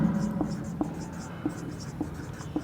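Marker or chalk writing on a board during a biology lecture on breathing, a series of soft scratchy strokes and light taps at irregular intervals under a faint background hum.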